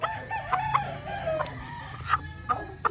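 A rooster on a farm calls out in short, sharp bursts among scattered clucks, repeated several times over a low rumbling background.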